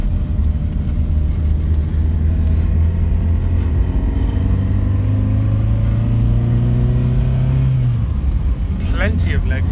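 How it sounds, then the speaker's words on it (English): A 1979 Triumph Dolomite Sprint cruising on a country road, its engine droning steadily from inside the cabin, the pitch rising smoothly as it accelerates through a gear, then easing off near the end. "we're just going on a nice country road drive"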